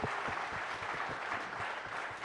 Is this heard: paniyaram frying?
no